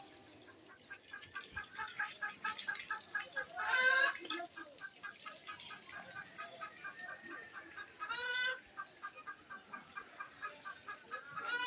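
Chickens cluck and cackle repeatedly nearby, with a few louder bursts of squawking from fowl, some sounding like ducks, against a quiet background.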